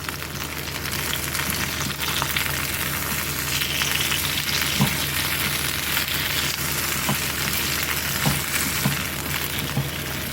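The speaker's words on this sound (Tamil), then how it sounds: "லேசாக கத்திரிக்காயை வதக்கிட்டு காமிக்கிறேன்" Small unsprayed blue eggplant sautés in a pan, giving a steady, dense sizzle and crackle of frying that runs alone and unbroken throughout, with faint stirring scrapes.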